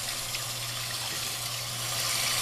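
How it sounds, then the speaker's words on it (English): Tap water runs steadily to rinse a makeup brush, a continuous close hissing rush with no voices over it. "And then I usually run it through the water."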